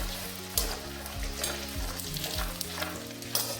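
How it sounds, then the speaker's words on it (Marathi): Corn chivda ingredients fry in hot oil with a steady, dense sizzle and bubbling, punctuated by repeated stirring scrapes, close and continuous throughout. "आपलं मस्त तेल गरम झालेलं आहे आता मी टाकते आणि छान असं तळून घ्यायचं आहे"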